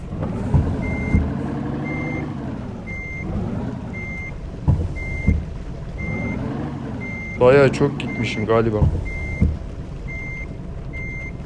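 A truck reverses in a mobile truck simulator game, its electronic backup alarm beeping at a steady, regular pace over a low engine rumble while someone talks throughout.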